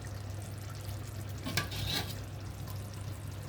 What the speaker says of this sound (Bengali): মশলাটা এখানে আমি কষাই নেব ভালো করে